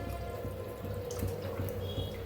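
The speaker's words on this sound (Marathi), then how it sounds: "आणि थोडंसं पाणी ओतते" Water trickles and splashes steadily into a pot of spicy amti, a soft continuous pour with a low background hum, close by and fairly quiet.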